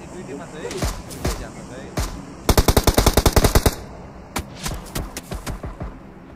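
Close gunfire in the mobile battle-royale game PUBG Mobile: single loud shots, then a rapid automatic burst of about a dozen rounds, then more spaced shots.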